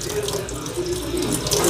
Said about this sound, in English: I'm just going to run under some cold water.